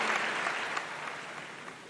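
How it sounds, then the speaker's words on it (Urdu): A studio audience at a Ramzan iftar quiz show claps together in a dense, steady burst of applause that holds loud throughout and fades only slightly near the end. "آپ سب کے لیے تالیاں"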